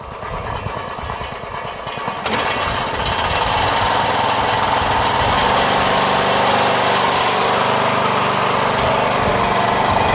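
Briggs & Stratton lawn tractor engine running loud and close, with a rough, rapid knocking rattle that settles into a steady, even idle drone, with no talking.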